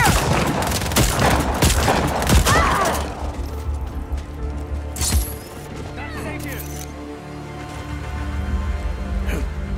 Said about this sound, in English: Shotgun. Nice.